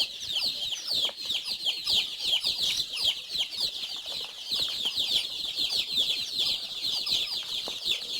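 Dense, continuous clucking from several free-range village hens (ayam kampung), with overlapping calls and some wing flutter, steady and fairly close throughout.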